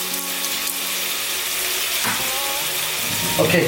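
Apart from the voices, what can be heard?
whole spices frying in hot pan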